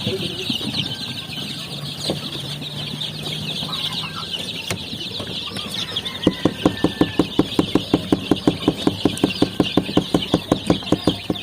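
Chicks and hens on a farm cluck steadily, with a fast run of rhythmic pecking or clucking near the end. The birds are close, with farm background noise.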